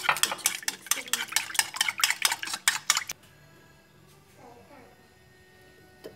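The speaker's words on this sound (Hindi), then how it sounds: "उसमें मैं ये अंडा डाल दूँगी, उसमें ये दूध डाल दूँगी, अच्छे से मिक्स कर लूँगी।" Egg and milk whisked together in a bowl, a rapid series of loud clinking utensil strokes against the bowl that stop abruptly, followed by quieter kitchen background and faint voice.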